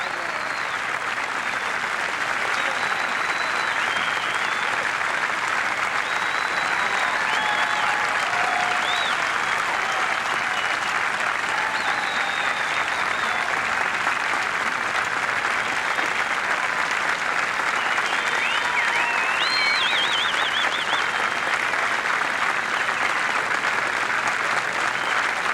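A golf gallery at the 1988 U.S. Women's Open in Baltimore gives Liselotte Neumann of Sweden sustained, dense applause that stays loud and steady from start to finish, with faint scattered whistles and shouts in it.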